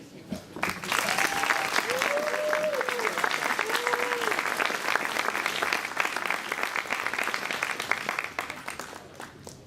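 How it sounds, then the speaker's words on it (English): Audience applause fills a gala hall after two legislators are introduced, steady dense clapping held at full strength for nearly ten seconds with a few faint voices or whistles rising above it. "Please join me in applauding two great legislators, Chairman Phil Mendelson and Councilmember K"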